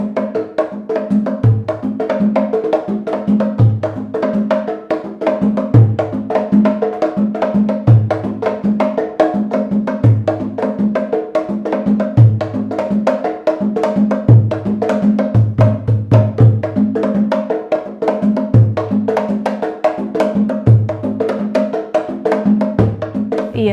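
Three batá drums, the large iyá, medium itótele and small okónkolo, play an interlocking Afro-Peruvian rhythm together, with repeating deep open tones over steady higher slaps, loud and close throughout.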